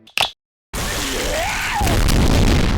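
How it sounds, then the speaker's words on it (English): A sudden, loud explosion sound effect in an animated JoJo's Bizarre Adventure Part 4 summary, with a bomb detonated by a Stand. A short click comes before a brief silence, then a deep boom that swells into a sustained roaring blast. "The explosion leaves no trace behind"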